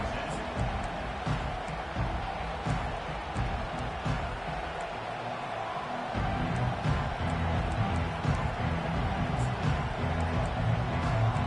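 A football stadium crowd at an NCAA college game roars steadily throughout, a dense wash of distant cheering and noise that swells slightly as play begins, with no clear individual voices standing out.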